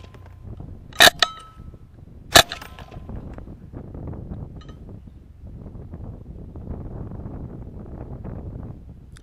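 Two sharp rifle shots from a camel hunt ring out about a second apart, each cracking loudly and briefly over steady outdoor wind noise.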